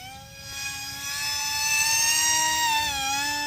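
A small RC paramotor engine revs at full throttle, a loud close high-pitched buzzing whine with a steady pitch that dips briefly near the end, with no speech over it.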